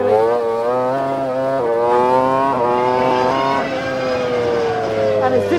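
Jordan Formula 1 race car engine revving hard on track, a loud, close, sustained high-pitched scream that rises and dips through gear changes over several seconds.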